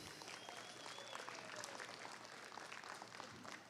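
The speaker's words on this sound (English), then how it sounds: "let's give all these kids a round of applause" Applause from an arena crowd honoring youth exhibitors at a livestock prospect show, a steady, dense wash of clapping that carries evenly throughout at moderate distance.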